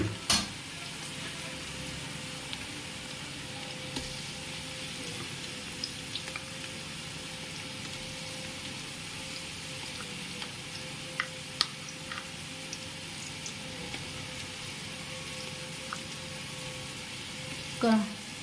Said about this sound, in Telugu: ఫ్రై చేసుకుందాం బాగా ఆయిల్లో.